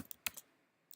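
A few quick, faint keystrokes on a computer keyboard, clustered near the start with one more tap at the end, close and quiet with no voice.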